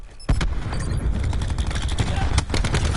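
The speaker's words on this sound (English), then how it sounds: "Cluster grenade. Enjoy." Cluster grenade explosions in Black Ops 4 crack out in a rapid, loud string of overlapping bursts and pops lasting several seconds, with a voice talking over the barrage.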